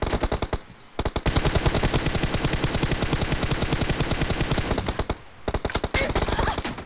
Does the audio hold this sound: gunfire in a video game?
yes